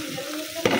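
Fish dropped into hot oil in a home kitchen pan, a low steady hiss suddenly swelling into a louder burst of sizzling near the end of the short moment.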